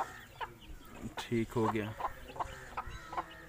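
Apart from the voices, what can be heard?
chickens clucking, a rooster and hens at a farm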